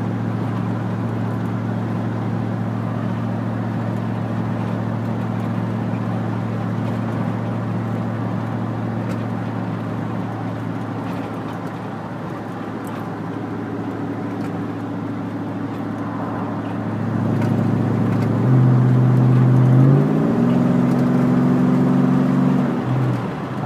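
A Chevrolet Silverado with a custom exhaust and hollowed-out mufflers idles with a steady low drone, then near the end gives a few louder revs that swell and settle, heard close with no talking.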